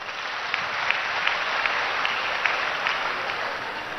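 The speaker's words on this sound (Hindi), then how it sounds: "जरा ताली बजाओ।" A crowd claps at an Arya Samaj gathering in Tankara addressed by Swami Ramdev, a soft, even patter heard from a distance, with a few sharper claps standing out.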